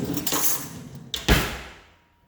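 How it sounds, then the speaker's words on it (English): A kitchen drawer without soft-close slides shut with a rolling glide and then a sharp, solid bang, heard close and alone, the thud dying away quickly. "The drawers aren't soft closing."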